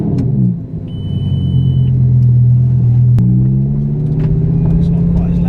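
A Lamborghini LP 560 engine rumbles deep and steady from inside the cabin, dipping briefly then swelling as revs rise slightly, with a voice talking over the drone.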